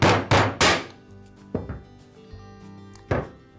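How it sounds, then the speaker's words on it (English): A shop mallet taps a ball bearing out of an Echo trimmer crankcase half, giving three sharp close strikes in quick succession, then a couple of lighter knocks and one more solid hit, with ringing metallic decay between them. "I'll use my shop mallet to tap the bearing out of the crankcase half"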